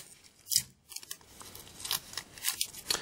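Paper tape is pulled and torn in short, quiet bursts and rips, then pressed onto a paper loop with faint crinkles. The sounds come close and soft, with no talking.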